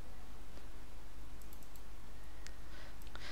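A few scattered, faint keystrokes on a computer keyboard click over a steady low electrical hum, with sparse taps near the end.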